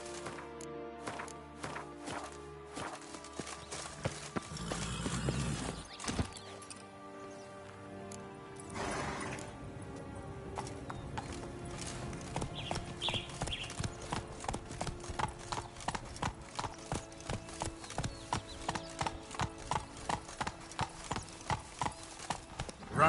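Roach, Geralt's horse in The Witcher 3, moves in a steady rhythmic clip-clop of hooves that quickens into a fast, even galloping beat, close and clear over soft ambient game music.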